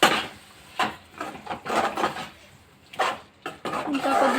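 Cooking pot of tomato rice stirred with a utensil, giving intermittent scraping and clinking bursts of stirring in a close, fairly loud, uneven rhythm.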